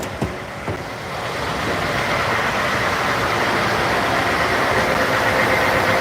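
Car engine idles while warming up during a coolant service, a steady broadband hum that swells after a few light clicks and then holds even and close.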